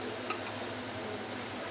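Ginger paste mixture for egg curry being stirred in a pan, a brief steady sizzle with a soft scrape, close and even, no voices.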